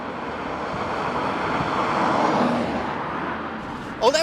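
A Mercedes R129 500SL V8 drives past with a steady, broad engine roar that swells toward the middle and eases off, heard from outside, ending in a brief louder clatter.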